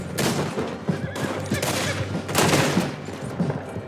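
Rapid volleys of gunfire crackle through a Red Dead Redemption 2 shootout on PS5, with overlapping shots bursting in close succession at loud, near range amid a busy battle bed.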